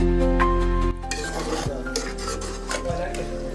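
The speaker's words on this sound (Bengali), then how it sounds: "এখানে খিচুড়ি রাধা হচ্ছে, ভুনা খিচুড়ি হবে।" Bhuna khichuri cooking in a pot at a rabbit-meat picnic with friends, a metal spoon scraping and clanking against the pot as it is stirred, over a steady low hum, close and continuous.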